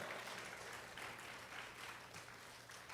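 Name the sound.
congregation applause in church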